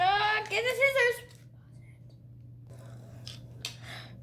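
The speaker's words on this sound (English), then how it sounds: "Wow, I think I opened it with my scissors." Scissors snip and crinkle open a Pokemon Sun and Moon Cosmic Eclipse card pack in a few short, close, quiet bursts after a voice speaks.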